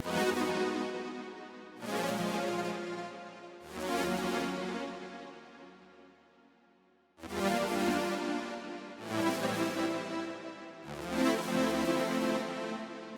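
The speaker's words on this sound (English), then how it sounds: "I then like accompanied it with this Juno preset called the Broken Arrow." Juno synth preset Broken Arrow layered over piano chords: a soft, sustained pad-like accompaniment with broad chord swells changing every couple of seconds, fairly quiet and alone, no voices.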